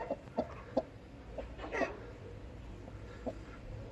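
A broody hen gives low, throaty clucks in short bursts, a few separate grumbling calls close by over a quiet background.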